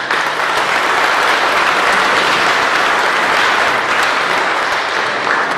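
Loud, dense applause from a large audience at a Petaluma event for an astronaut's visit, a continuous wash of clapping that holds steady for several seconds with no voices.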